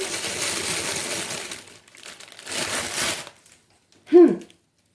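A plastic packet from a supermarket haul is opened and crinkled up close, with two bursts of dry rustling and crackling and a brief louder crinkle near the end.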